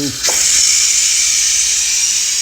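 Steam hisses loudly and steadily from a Ninja Foodi pressure cooker during pressure release, a sustained broadband rush that stays strong for the whole stretch after a brief start, under a tea towel.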